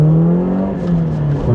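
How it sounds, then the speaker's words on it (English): A 1986 Toyota Corolla AE86 GT Coupe (Levin) with a twin cam engine revs steadily, its strong harmonic drone holding loud and close throughout. "Now we're motoring, we're taking it, revving it right up."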